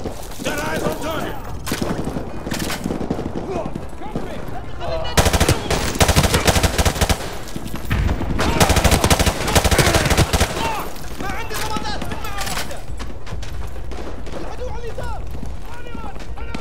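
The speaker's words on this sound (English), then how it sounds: "We are taking heavy fire from the school." Heavy automatic gunfire fills a combat battle in the video game Modern Warfare 2, with sustained machine-gun bursts and shots that swell louder midway, while voices talk over the shooting.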